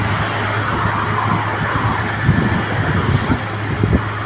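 A car climbing slowly up the Beed ghat road: a continuous engine drone with road and wind rumble, heard from inside or close by, with no talking.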